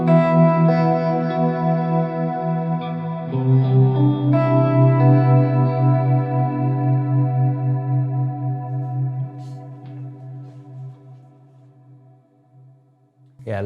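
Clean electric guitar through shimmer reverb played on a Tonex cab, chords ringing out in a long wash that swells, then slowly fades into a lingering shimmering tail.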